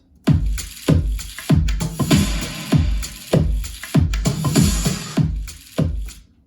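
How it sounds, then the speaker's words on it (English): A full electronic drum groove for a future bass EDM track plays alone: punchy kicks and snares hit in a steady repeating pattern with bright hi-hats and cymbal wash running between them. "the drums all together sound like this"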